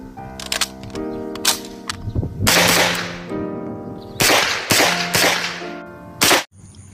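A toy UMP gun gives off a series of electronic shooting sounds, sharp cracking bursts mixed with tonal beeps, close and fairly loud, repeated several times.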